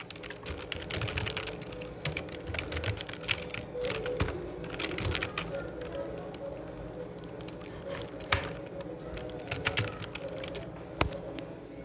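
Continuous clattering keystrokes on a computer keyboard while Python Pygame code is entered, steady and close with a few sharper key hits, no voices.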